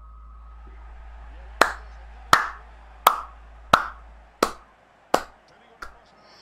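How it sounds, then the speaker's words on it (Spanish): Seven separate, sharp hand claps ring out at a slow, steady pace, each crisp and fairly close with a short decay, over a quiet background. "Nada más me queda que aplaudir"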